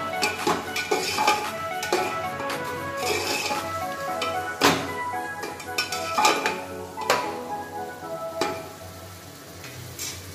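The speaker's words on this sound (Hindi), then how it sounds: "अब इसको मिक्स करेंगे और इसे अच्छे से भुनेंगे" Mutton frying in a pan with chilli, turmeric and garam masala sizzles steadily while a spoon repeatedly scrapes and clanks against the metal, giving sharp, irregular knocks over the constant hiss.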